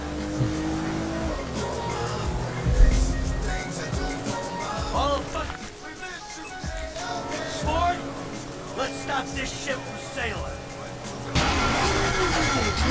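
Car engine sputtering and failing in Grand Theft Auto V, a rough mid-range drone with revving bursts and a loud knock, under background game music and voices talking throughout.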